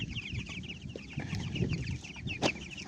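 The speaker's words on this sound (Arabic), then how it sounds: "الفراخ البلدي كده بتحب تنكش وتحب تدور في ده وده" Free-range village chickens foraging up close, giving soft repeated clucks and chatter over scratching and rustling, with one sharper squawk near the end.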